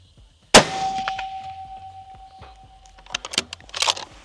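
Rifle shot followed by a sharp metallic ring as a 10-inch steel target plate is hit at long range, the ding sustaining and fading while handling noises clatter nearby.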